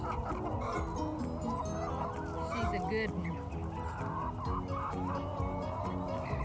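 Hens clucking in a backyard flock that includes Orpingtons and big barnyard birds, a busy mix of clucks and gobble-like calls close by, with a person talking briefly over the birds.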